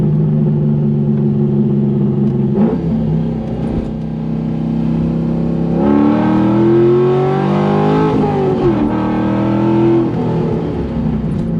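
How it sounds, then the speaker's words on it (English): A C5 Corvette engine revs loudly and steadily, its pitch rising and dropping through a series of downshifts, with no talking. "Listen to those downshifts."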